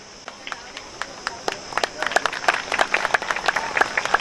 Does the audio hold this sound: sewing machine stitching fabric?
no